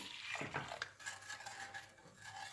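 A spoon stirs milk into dry ingredients in a pot off the heat, quiet rhythmic scraping and clinking of metal against the pot, close and soft, with no talk.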